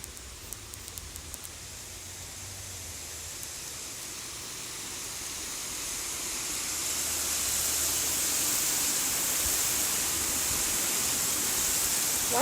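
A waterfall rushes as a steady broadband hiss that swells gradually louder over about twelve seconds, continuous and unbroken, with no voices.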